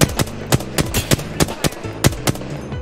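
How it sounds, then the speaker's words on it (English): Rapid gunfire in the video game Apex Legends: a steady stream of sharp, evenly spaced shots, roughly four per second, loud and close with no talk. "I'm getting shot at and I'm gonna kill him"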